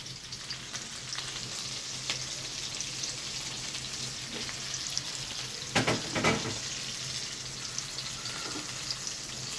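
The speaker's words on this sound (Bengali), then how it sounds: "পেঁয়াজ ভাজা শেষ।" Onions frying in a pan give a steady, even sizzle throughout, with a couple of louder clinks or stirring knocks near the middle; no voices.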